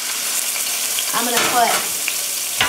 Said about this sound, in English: We're going to go right in this nice sizzling oil.